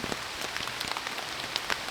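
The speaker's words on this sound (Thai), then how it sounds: "ฝนมาแล้ว ฝนก็ตก" Rain falls steadily on surfaces outdoors while snakehead fish is being cooked, a dense continuous patter of drops with scattered brighter splashes, close and fairly loud, with no voices.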